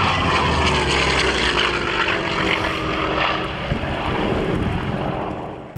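The Daimler-Benz engine of a Messerschmitt Bf 109 runs with a steady, loud, rough roar and propeller throb, continuous and close with a slight easing toward the end.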